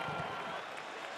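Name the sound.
arena crowd applauding at Barclays Center UFC fight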